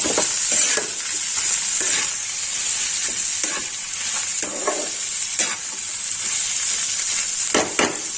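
Turmeric and chilli powder masala frying in a pan for a banana flower ghonto, a steady sizzle with a spatula scraping and stirring in repeated strokes, close and fairly loud throughout.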